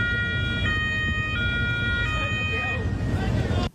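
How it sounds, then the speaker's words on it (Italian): A local police siren wails in Venice near the Arsenale waterbus stop. It sounds in a rising and falling two-tone pattern over engine and water noise, fairly loud and close, and cuts off abruptly at the end. "le sirene della polizia locale annuncino il loro imminente arrivo"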